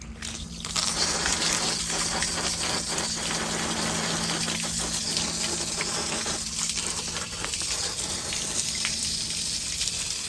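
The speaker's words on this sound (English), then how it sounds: "just get my little hose here" A garden hose sprays water steadily over an Aiper Seagull SE cordless robotic pool vacuum to clean it, a continuous close hiss and splatter that runs unbroken for about ten seconds.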